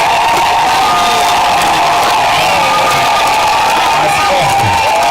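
A dense, loud crowd cheers and ululates steadily to welcome a bishop at the commissioning of a new parish, with a roaring, unbroken wash of voices throughout.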